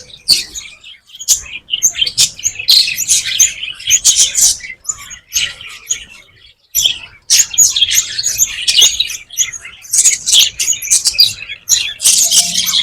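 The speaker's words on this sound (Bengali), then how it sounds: "কিছু দূর আসলে আপনারা দেখতে পাবেন পাখির একটা খাঁচা আছে। এখানে অনেক ধরনের পাখি" Many small birds, including lovebirds, chirp and tweet in dense bursts inside an aviary cage at an amusement park, bright and close with short gaps between flurries.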